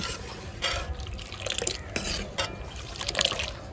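Small amount of water poured into a pot of simmering dal in a home kitchen, faint uneven splashes and trickles in short bursts over a quiet background.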